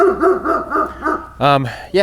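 A dog in or near a house under renovation gives a run of high, whining yelps, then two loud, sharp barks near the end, close to the listener and heard alone.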